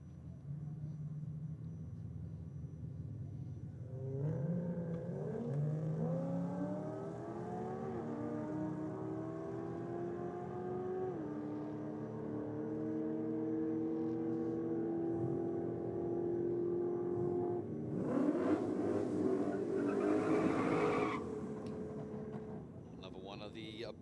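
Blue Holden VK Commodore cars at Sydney Dragway, engines droning and revving up in rising sweeps, with a louder burst of roar near the end; voices talk over the engine noise.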